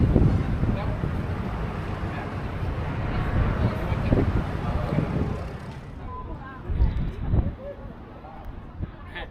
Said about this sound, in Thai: เฮ้ยลมแรงมาก นี่ลมแรงมากเลย